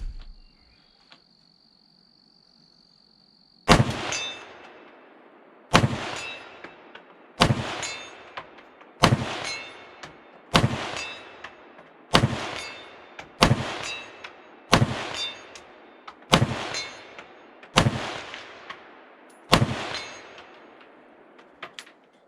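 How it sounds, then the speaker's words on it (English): Eleven loud rifle shots from a Century Arms VZ-2008, a VZ-58 clone, fired at about two-second intervals outdoors, each a sharp crack with a ringing decay, after a faint steady insect-like tone. "let's take her out and do some shooting"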